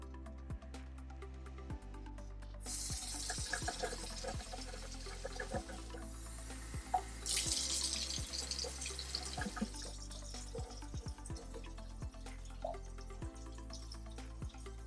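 Tap water runs steadily into a container at a sink, a continuous splashing stream that swells louder partway through, heard close with faint knocks and no talking.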